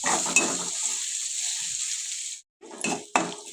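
Ginger garlic paste sizzling in a hot pan, a bright steady hiss of frying that runs loud for a couple of seconds, stops briefly, then returns with scraping stirs and clinks of a utensil against the pan.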